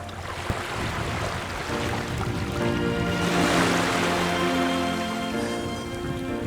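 Loud, close sea water rushes and sloshes continuously against a boat rocked by waves at sea, swelling in the middle before easing slightly.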